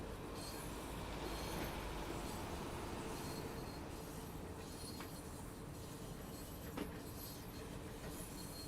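Simulated train running slowly at about 9 to 10 mph in Train Sim World 3 on the Niddertalbahn line, with a steady low rumble, faint rail clicks and occasional wheel squeals, quiet and continuous.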